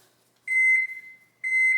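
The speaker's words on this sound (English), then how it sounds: "Put on my timer." A kitchen timer is set for a baking pumpkin pie and gives two clear, piercing electronic beeps, each almost a second long, close by in a quiet kitchen.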